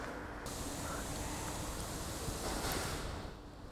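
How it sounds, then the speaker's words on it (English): Hose spraying down a slaughterhouse kill floor in Spain, a steady, continuous broadband hiss of water jetting and splashing that runs unbroken throughout at a moderate level, with no voices. "You can hear them hosing down."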